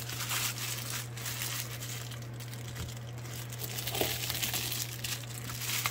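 Paper crinkling and tearing against the blade of an MTECH USA Evolution tactical cleaver knife, a steady rustling crumple running throughout at moderate level over a constant low electrical hum, with no talking.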